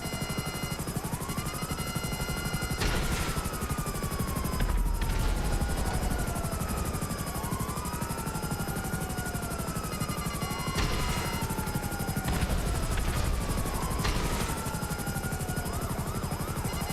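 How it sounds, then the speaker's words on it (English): A Hunter attack helicopter in GTA Online, its rotor thudding in a loud continuous beat while the engine pitch swoops and whines over and over as it maneuvers, close and steady for the whole stretch. "I love the Hunter. It's such a sexy helicopter."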